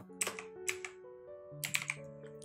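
Computer keyboard typing in two short bursts of quick clicky keystrokes, close and crisp, over a faint steady background tone.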